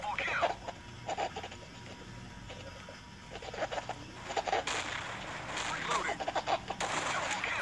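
Gunfire in a video game: bursts of shots crackle at irregular moments, some faint and some sharper, over a low game background, with scattered clusters of rapid fire toward the end.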